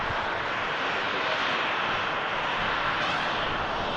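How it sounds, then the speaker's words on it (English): A Ryanair airliner taxis past at Manchester Airport on its way out to Milan, giving a steady broad roar of jet engines that holds at moderate loudness throughout. "The Ryanair taxiing past us here at the RVP, heading out to Milan"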